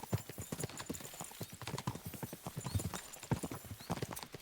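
Horses gallop in Kingdom Come: Deliverance II, a dense, rapid clip-clop of hooves pounding on and on at close range, with a faint whinny mixed in.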